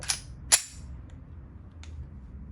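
A Kuzey GN19 Glock 19 blank gun fires two sharp, loud cracks about half a second apart, followed by faint clicks in a quiet outdoor setting.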